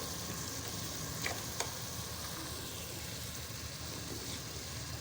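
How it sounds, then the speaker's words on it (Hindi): Masala spices frying in a pan for a boneless chicken handi, a steady soft sizzle running throughout with a couple of faint clinks, no voices. "हमारा मसाला अच्छी तरह भून गया है"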